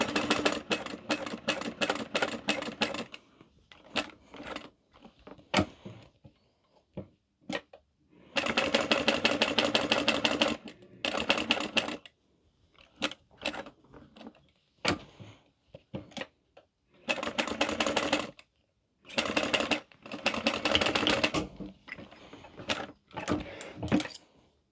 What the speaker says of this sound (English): now we're going to stitch around these sides